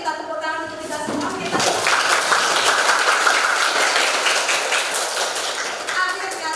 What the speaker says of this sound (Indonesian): ayo kita tepuk tangan untuk kita semua